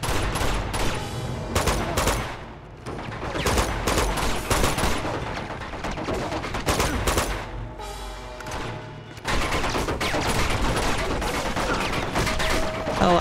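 Machine gun fire in Uncharted 2: Among Thieves, set at a monastery base, blazes in loud sustained bursts with brief pauses between volleys, dense and close, with heavy thuds mixed in and no talking.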